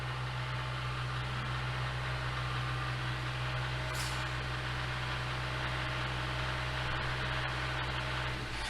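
A 2017 Hyundai Elantra engine, just back from timing system repairs, is held at around 2000 RPM, giving a steady, continuous mechanical drone with no change in pitch and no one speaking.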